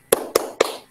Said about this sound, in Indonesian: Ya, tepuk semangat dulu.